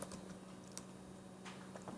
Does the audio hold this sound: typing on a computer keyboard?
yes